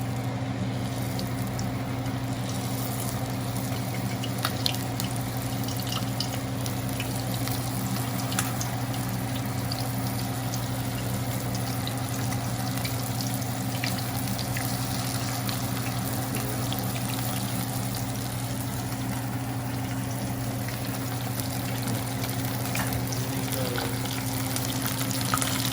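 Crab rangoons deep frying in hot oil, giving a steady, even sizzle and bubbling that runs unbroken and close throughout, with a constant low hum beneath and no talking.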